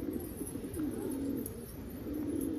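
Pigeons coo in low, continuous murmuring calls on a rooftop, a steady soft chorus at moderate distance with no talk.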